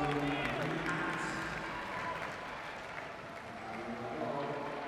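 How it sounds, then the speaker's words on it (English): Noisy home crowd filling the London Velodrome during a Paralympic men's individual B sprint track cycling quarterfinal, a steady roar of cheering and scattered clapping throughout, with a commentator's voice running over it. "there's a passionate, noisy home crowd at the Velodrome in London"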